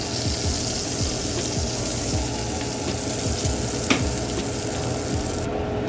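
A dry aged ribeye steak sizzles steadily in a hot oiled pan, a loud continuous frying hiss with faint stirring or scraping and no voices.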